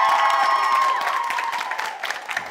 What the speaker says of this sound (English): Massive round of applause to Ben Freer